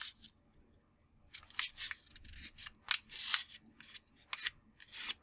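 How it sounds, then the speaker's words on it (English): A square sheet of paper being folded diagonally for an origami craft, heard as a run of quiet crisp rustles and crinkles in irregular bursts, close by with no talking. "take your square sheet of paper and fold it in half diagonally like this"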